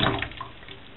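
Water sloshing in a bathtub prepared for washing wool with a lanolin mixture, a short splashy liquid wash, close and fairly loud with no talk.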